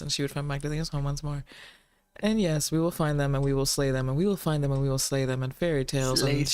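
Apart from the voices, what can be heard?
No everyday noises stand out.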